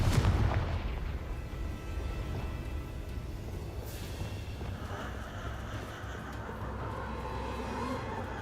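A Confringo spell blast in the Hogwarts Legacy video game opens with a heavy, booming explosion, followed by lower rumbling combat noise and scattered impacts.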